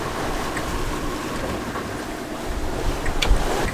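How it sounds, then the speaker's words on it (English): A sailboat under sail at sea between Sicily and Sardinia, engine switched off, with a steady rush of wind and water that swells slightly near the end. No one speaks. "we are now confident that we can turn off the engine and just sailing"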